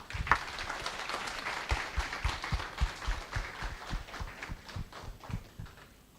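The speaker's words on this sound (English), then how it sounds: "Give a round of applause," Audience at a medical CME workshop applauding after a talk, a loose, uneven patter of scattered clapping in a hall, fairly quiet and thinning out toward the end, with no voices over it.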